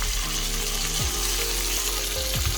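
Tomato puree sizzles and fries in a pan with lamb for a stew, a steady crackling hiss with a few low scraping knocks of stirring, close and alone.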